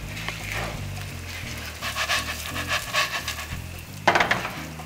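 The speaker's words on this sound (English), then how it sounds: "The pasta has sauteed a little bit in the soffritto" Orzo pasta sautés in the oil of a soffritto, giving a low, steady sizzle broken by rhythmic scraping stir strokes in the pan.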